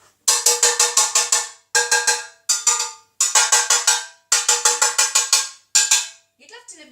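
A hot baking tin holding freshly baked banana, honey and peanut butter bread is banged down on a hard surface to free the loaf, giving loud, close metallic clanks in rapid bursts of four to six with short pauses between.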